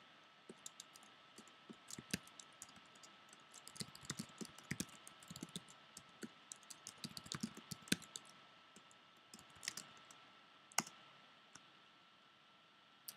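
Steady computer keyboard typing while writing code for unit tests, a dense run of quick close clicks and key taps with occasional louder strokes, no talking.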